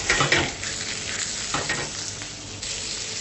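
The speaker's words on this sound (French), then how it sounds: "je vais faire saisir ces pommes de terre, surtout sans les laver, en gardant toute sa fécule" Unwashed, starchy potato slices sear in a moderately hot frying pan with a steady, close sizzle, stirred and shifted around, with a brief louder burst of crackle near the start and no talking.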